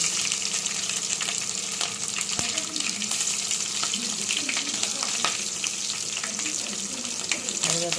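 Chopped onion frying in oil in a pot on a stove, a continuous close sizzle with occasional stirring clinks and scrapes, steady loudness throughout.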